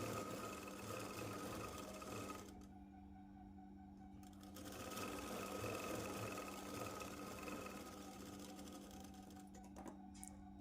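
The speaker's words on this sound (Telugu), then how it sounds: "ఇప్పుడు లైనింగ్ మెయిన్ క్లాత్ జాయిన్ చేస్తున్నాను ఒక పావించు మార్జిన్తో స్టిచ్ వేసుకుంటున్నాను" A sewing machine joins a lining to the main cloth of a Punjabi dress with a quarter-inch margin, humming in a steady run that pauses briefly partway through, then resumes.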